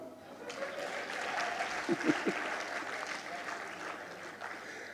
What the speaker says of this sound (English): Won't you clap for me?